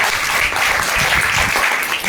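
An audience at a sales plan presentation gives loud, sustained applause, a continuous wash of many hands clapping without a break.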